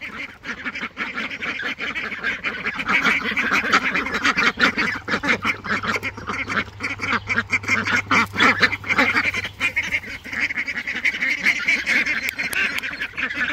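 Ducks quacking in a busy barnyard alongside Jumbo Cornish Cross meat chickens, a dense stream of overlapping calls continuing steadily throughout, fairly loud and close with no talk.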